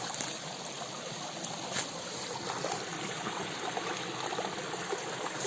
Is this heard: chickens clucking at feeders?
no